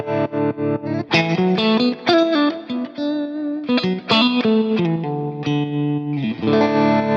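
Electric guitar plays through the fully driven valve tremolo circuit of an Amplified Nation Trem Drive Deluxe amp, with chords and single notes throbbing in a steady pulsing rhythm, loud and close.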